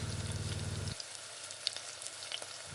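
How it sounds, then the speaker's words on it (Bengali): Moringa flower fritters sizzle steadily in hot oil, a continuous close crackling hiss with a low hum under the first second and no voices. "গরম তেলের মধ্যে এক এক করে বড়াগুলো দিয়ে ভালোভাবে ভেজে নেব"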